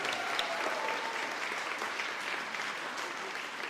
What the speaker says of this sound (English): So once again, a big round of applause.